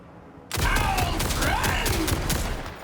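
Shotgun fire from the Legendary Daedalus weapon in Borderlands 4, a sudden loud blast that turns into dense sustained gunfire and game effects lasting a few seconds, with quiet sounds before it starts.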